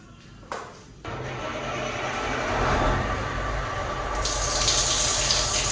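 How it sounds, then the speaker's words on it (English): A shower runs at a gas station along the Pan-American route in Peru, a steady hiss of falling water that starts after a brief knock and swells slightly toward the end, close by with no talk. "let's go take a shower at a gas station"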